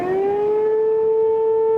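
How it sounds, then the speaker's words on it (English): Civil defense warning siren wails at 2 a.m. in southern Dallas County, a loud steady rising tone that holds alone without talk, part of an overnight false emergency alert. "Warning sirens sound at 2 in the morning."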